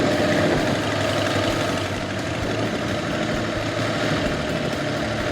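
A motorcycle engine chugs at low speed while the rider works the clutch, a close, steady low rumble with faint pulsing and slight dips in level, no speech.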